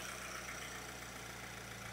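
A Volkswagen Golf GTI Mk7 engine idles with a steady, even low hum, constant and moderately faint, with no voices.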